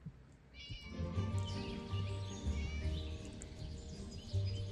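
A locked-up cat in the horror game Scary Teacher 3D meows repeatedly and plaintively, in close, clear calls over a steady low game-music drone.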